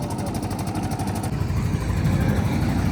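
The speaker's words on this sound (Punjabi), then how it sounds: "ਮਸ਼ੀਨ ਰੈਡੀ ਆ ਲੱਗੇ ਆ ਸਟਾਰਟ ਕਰਨ" A combine harvester's engine is started up while being readied to leave for Gujarat. It gives a close, loud, steady mechanical rumble that swells slightly after a brief shift partway through.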